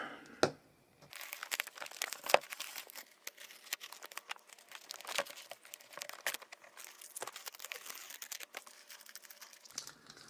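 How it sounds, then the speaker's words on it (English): Painter's tape being peeled off a painted shoe surface, a long run of close crinkling and tearing rustles in irregular bursts, heard alone without speech. "I'm also going to get ready to take the tape off of this side"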